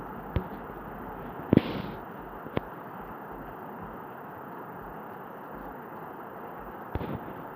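Several sharp video game gunshot cracks in a horror game, spaced irregularly with one louder blast, over a steady low background hum.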